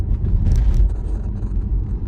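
Steady low road rumble from a car driving along a road, continuous and moderately loud with a brief surge near the middle, no voices over it.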